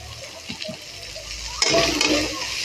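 Mustard paste, turmeric and chili powder being stirred into hot oil in a pan, a steady sizzle that swells louder partway through, with scraping stir strokes close by and no talking.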